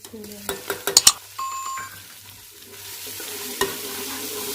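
Onion and crushed ginger fry in a pan for a village-style Pakistani saag tempering, with a brief run of loud spoon clatters and stirring scrapes early on, then a low steady sizzle.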